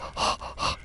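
A dog panting in the Greedfall video game: two quick rhythmic breathy bursts, close and fairly loud, with no voices over them.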